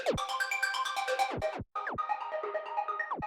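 Arpeggio synth preset in the Xpand!2 plugin, playing rapid plucky repeating notes in a bright chiming pattern with sharp pitch-dropping swoops, briefly cutting out midway, and no one speaking.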